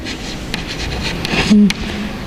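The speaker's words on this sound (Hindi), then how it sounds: "तो यहाँ पर वृद्धि खाली लिखती हूँ" Chalk or marker writing on a board during a classroom lecture, a soft scratchy stroke sequence with short broadband bursts, fairly close, with no talking.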